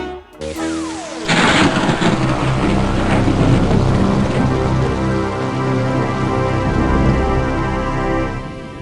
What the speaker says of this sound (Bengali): রাত যত বাড়ছে বৃষ্টির দাপটও তত বাড়ছে যে গো